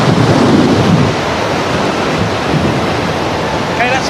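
Strong wind at around 40 km/h roars across the microphone in a steady, broadband rush, loud and continuous, with a short voiced sound breaking through near the end.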